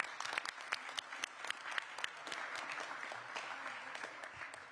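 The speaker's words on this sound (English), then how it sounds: "So let's give him a round of applause." Applause for elected officials at a public safety announcement by a city mayor, steady clapping from a modest crowd lasting throughout, with sharp individual claps standing out near the front.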